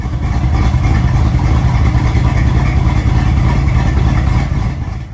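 A rebuilt Gen 3 Hemi with stock pistons and a thumper camshaft runs in a Dodge Dart, a loud, close, steady engine note with a lumpy, throbbing idle and no talk over it.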